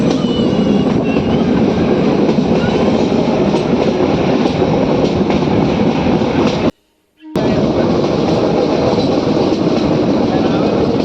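An old-style train running through Gir from Gir Gadhada toward Sasan Gir gives a loud, steady rumble and clatter, broken by one short drop to near silence partway through.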